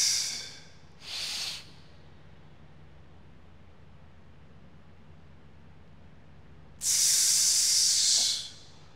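Deep, forceful breaths taken while bracing for a barbell squat, with a short hissing inhale near the start, a long quiet pause, then a loud sustained rush of air close to the mic.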